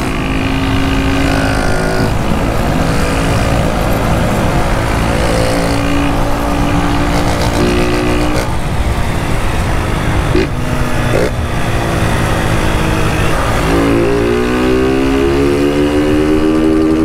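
Honda Start 160 motorcycle engine with a desmiolado exhaust and no filter, revving loudly and steadily up close, with rising and falling pitch sweeps as the throttle is blipped.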